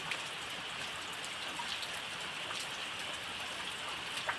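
Heavy monsoon rain pours steadily in coastal Konkan, a dense continuous hiss of drops striking surfaces with occasional louder close splashes, no voices.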